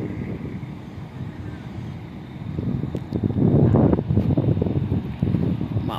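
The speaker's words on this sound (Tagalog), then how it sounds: "Kay lumakas ng hangin." Strong wind gusts over a ship berthed in Subic Bay port, roaring and buffeting the microphone and swelling louder midway through, with rain beginning to fall.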